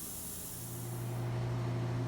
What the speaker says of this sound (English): We got a pump sprayer filled with Castrol Super Clean with some hot water, and we're spraying this thing down